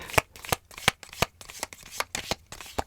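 Tarot cards being shuffled make a quick run of crisp, close riffling snaps, about a dozen sharp bursts in uneven rhythm, quiet and alone.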